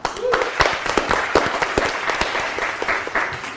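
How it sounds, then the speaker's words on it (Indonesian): An audience breaks into clapping, a lively patter of many hands with a few sharper claps standing out, continuing without pause. "beri tepuk tangan dong"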